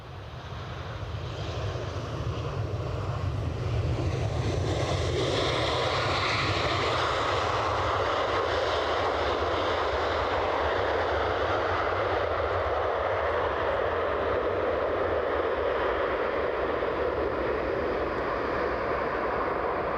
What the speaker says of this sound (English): Sounds like we've got an ATR possibly starting up.